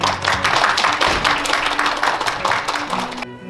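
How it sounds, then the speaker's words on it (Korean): An audience at a youth peace conference applauds to welcome a lecturer, dense clapping that stays even and fairly loud for about three seconds, then cuts off abruptly. "21세기 동양 평화론을 주제로 강연을 해주실 김누리 교수님 큰 박수로 모셔보도록 하겠습니다."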